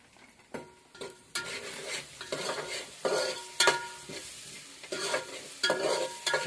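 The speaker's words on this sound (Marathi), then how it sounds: "त्यानंतर पुन्हा एकदा तो सर्व मिश्रण पुन्हा हलवून घ्यायचा आहे. पूर्ण तेलामध्ये त्याचा पूर्ण एकजीव करायचा आहे." Onion, garlic and ginger paste frying in oil over a village wood-fired stove, stirred in repeated scraping strokes that rise and fall over a continuous sizzle, close and fairly loud.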